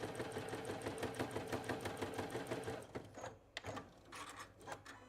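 A home sewing machine runs loudly through quilt block stitching with a steady, rapid clanking rhythm, then slows and stops in uneven bursts near the end.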